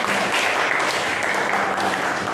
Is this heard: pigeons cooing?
no